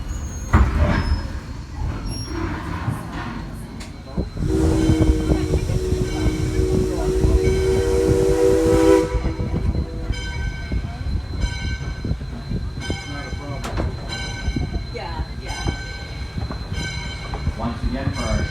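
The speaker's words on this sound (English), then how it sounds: "please remain seated until the train has come to a complete stop" A passenger train pulled by a Mikado steam locomotive rumbles and clatters along the rails in the Connecticut Valley, with a long tonal horn-like drone partway through and people talking over the noise.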